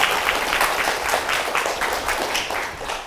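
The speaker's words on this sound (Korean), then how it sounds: "오늘 함께 해주신 변경민 교수님께 다시 한번 큰 박수 부탁드리겠습니다." Audience applause after a science lecture in Daegu, a dense, steady wash of many hands clapping close by, holding at an even level for about three seconds.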